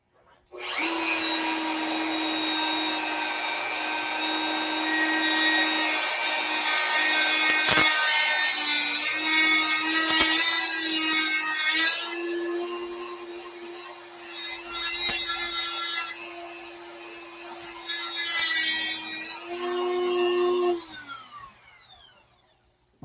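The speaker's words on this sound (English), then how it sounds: "We'll use this cutoff wheel." A cutoff wheel grinds through a part in a workshop, a steady high whine broken by several short pauses and restarts as the cut continues, ending as the wheel spins down.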